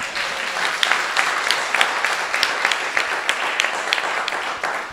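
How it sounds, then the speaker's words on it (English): Audience clapping at a Hare Krishna sankirtan seminar, a dense steady patter of many hands with sharper individual claps popping out, sustained and fairly loud throughout. "Come on, if you're going to clap a little louder."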